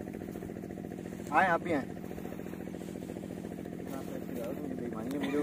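Motorcycle engine running steadily close by while riding slowly through water, a continuous low throbbing rumble, with a person speaking briefly over it.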